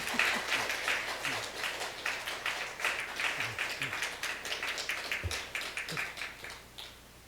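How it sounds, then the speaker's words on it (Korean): A church congregation breaks into warm applause as the pastor comes forward, a steady wash of many hands clapping at moderate volume before tapering off at the end. "우리 목사님 나오실 때 우리 감사의 박수로 우리 목사님을 맞겠습니다"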